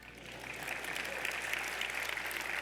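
Audience applause fills a large hall during the mayor of New York's State of the City address, a steady dense clapping that holds at an even level throughout, with no voices over it.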